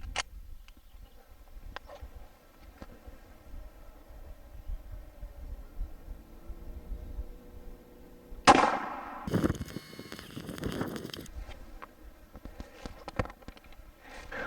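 A 9mm hollow point round fired into sheet metal gives one loud, sharp broadband crack with a ringing metallic tail, followed by a second burst of impact noise, after a stretch of quiet background hum and faint clicks.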